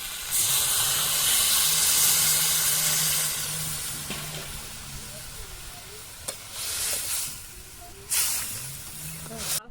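Water poured into a hot village-style fish curry of Puntius fish with elephant foot yam, a loud steady hiss and sizzle that slowly subsides into bubbling, with a low hum and occasional clinks; a voice speaks briefly over it.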